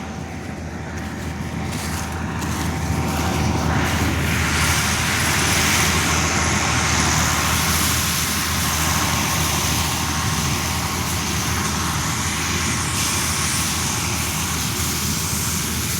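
A Malkit 997 combine harvester with a turbo engine running close by, its loud, steady drone and broadband roar building slightly over the first few seconds and then holding constant, with no voices.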